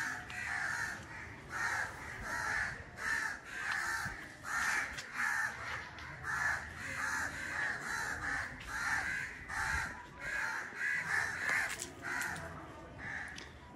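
Crows caw loudly and repeatedly from a tree where they are defending a nest, harsh calls coming in steady overlapping bursts close by with no talking.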